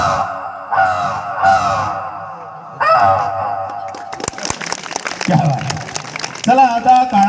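A mimicry artist imitates crows with his voice, giving a run of harsh, nasal caws in short bursts with pauses between, then rougher, choppier calls toward the end.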